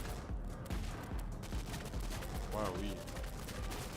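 A minigun fires automatically in a shooter game, a rapid, unbroken stream of shots that sounds loud and relentless, with a short exclamation from a voice partway through.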